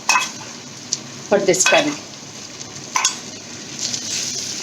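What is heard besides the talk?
tomato puree added to sizzling Bengali fish curry gravy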